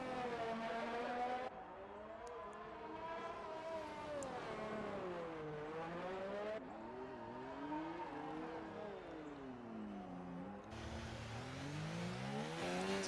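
Formula racing car in a video game on a flying lap around the Monaco street circuit on medium tires, its engine pitch rising and falling steadily through upshifts and braking, loud and close with no talk.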